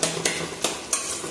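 Oil frying in a pan with a steady sizzle, cut by several sharp clinks of a utensil stirring against the pan, close and fairly loud with no talking.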